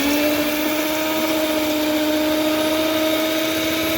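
An electric mixer whirs continuously and loudly, beating olive oil, demerara brown sugar and Mexican vanilla for cowboy cookie dough, a steady motor hum with no pauses and no voices.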